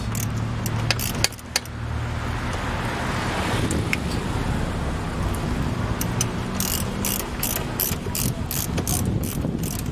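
A failing belt pulley on a 1997 Honda Civic engine grinds and whirs steadily at close range, with scattered metallic clicks and ratcheting ticks on top.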